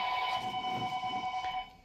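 An old telephone rings indoors with a steady, continuous bell tone that holds for over a second and a half before cutting off, alone and fairly close.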